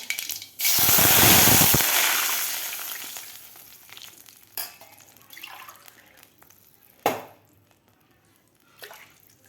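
Two glasses of water are poured into a hot kadhai of oil with tempered mustard seeds, setting off a loud burst of hissing sizzle that dies down after about a second, followed by quieter bubbling and a few sharp clanks.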